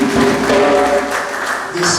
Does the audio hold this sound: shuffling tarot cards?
no